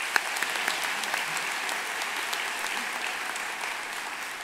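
A commencement audience claps steadily for an Army ROTC color guard, a dense, even patter of many hands sustained throughout at a fairly loud level.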